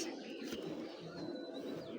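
Foreign racer pigeons give soft, low cooing that hums steadily and faintly through a short stretch, with no voices over it.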